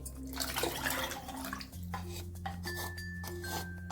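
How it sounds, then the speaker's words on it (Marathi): Water splashes and trickles into a vessel, with light clinks of metal dishware, a steady pour that shifts pitch as the container fills. "आपल्याला किती पाहिजे तेवढं आपल्याला पाणी ओतून घ्यायचं"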